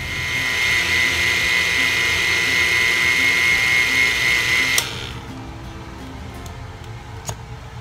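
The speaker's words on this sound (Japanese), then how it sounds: "ミキサーにかけていきます。" A blender whirs loudly and steadily with a high motor whine for about five seconds, blending braised pork for soup dumplings, then cuts off, leaving quiet room noise.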